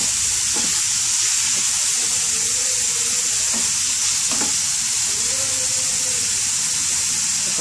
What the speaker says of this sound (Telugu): పాలకూర ఆలుగడ్డ కొద్దిగా గోలాలి, మీద పెట్టుకోవాలి